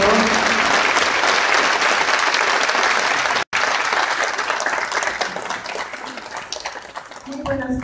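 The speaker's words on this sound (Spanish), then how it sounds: "Un aplauso fuerte para ella." Sustained applause from a crowd for a federal deputy at her first legislative report event in Mexico, dense and loud clapping with a brief dropout midway before thinning slightly near the end.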